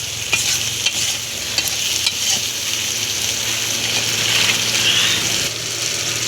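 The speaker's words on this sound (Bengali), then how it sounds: "একটু কষিয়ে নিই।" Taro being sautéed with salt in a pan, a steady loud sizzle and frying hiss with scraping stirring strokes and a few sharp clicks of the spoon against the pan.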